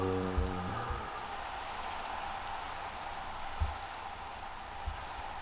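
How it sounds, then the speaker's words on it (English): Rain in the video game Minecraft, an even wash of steady rainfall with a few low thuds and brief tones early on, heard alone. "I don't know why, but the rain feels depressing today."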